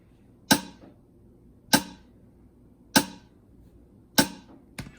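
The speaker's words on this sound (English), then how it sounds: "just go ahead and add just a simple snare pattern" Four sharp snare hits land alone at an even, slow pace, each cracking and decaying quickly, with a fifth softer hit at the end.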